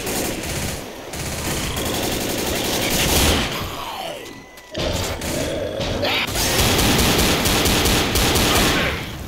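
Rapid automatic gunfire rattles in the zombie shooter game Left 4 Dead, loud sustained bursts mixed with clanking weapon mechanisms and crashes, with short lulls between volleys.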